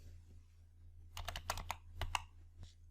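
Fingers typing on a computer keyboard while entering a value in an Excel spreadsheet: a quick burst of close, crisp key clicks over a low steady hum.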